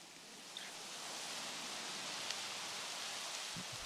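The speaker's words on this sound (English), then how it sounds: "Oh, rain. Beautiful rain." Steady broadband rain hiss from the video game Jurassic World Evolution, a continuous even downpour with faint scattered drops throughout and no voices.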